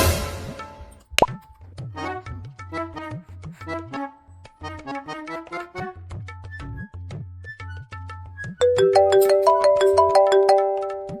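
A mobile phone rings with an incoming call, its bright melodic ringtone repeating in a bouncy pattern and growing louder and fuller toward the end, with no talking over it.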